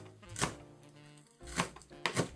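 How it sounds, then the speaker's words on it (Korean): A knife chops green onion leaves on a cutting board in three quick bursts of close, crisp strokes, a short pause between the first and the last two, with no voices. "먼저 파의 파란색 잎부분을 송송송 썰어 줄게요"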